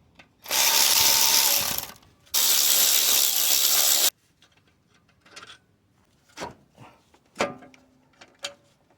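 Work on the 14mm alternator bolt of a 1993–97 Toyota Corolla 1.6 during a timing belt and water pump job: two long, loud mechanical bursts, then scattered close tool clicks and metallic clanks, with no talking.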